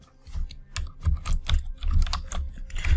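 Computer keyboard keys tapped in quick uneven bursts, close and fairly loud, while text is entered into HTML form input boxes, with no talking.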